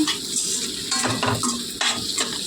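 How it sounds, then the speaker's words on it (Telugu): Egg with garam masala being stir-fried in a pan, a close sizzle broken by quick scraping strokes and light clinks of a utensil against the metal. "గుడ్డు వేగిన తర్వాత గరం మసాలా వేస్తే కొంచెం బాగా వేయించుకొని"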